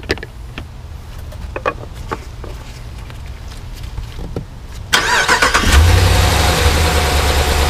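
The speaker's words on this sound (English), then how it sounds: "we're going to go on ahead and start it up" A 2017 Ram 1500 pickup's engine cranks and catches about five seconds in, then settles into a loud, steady idle with a broadband roar, after a stretch of quiet shop clatter and clicks.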